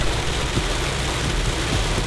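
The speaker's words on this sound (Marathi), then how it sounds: "रस्त्यात पाऊस पाऊस आणि फक्त पाऊसच" Heavy rain on a road roars in a steady, dense hiss, with a low rumble like a vehicle moving underneath.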